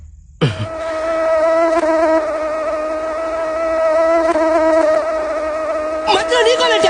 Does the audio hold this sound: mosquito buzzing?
yes